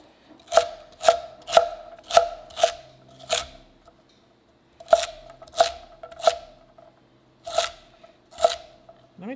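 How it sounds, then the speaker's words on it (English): A knife chops celery on a cutting board in crisp, close, evenly spaced strokes, about six chops in a quick run, a short pause, then two more bursts of several chops. "I can tell you right now while I'm chopping"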